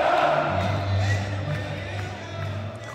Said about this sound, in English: Crowd kind of amazing at the end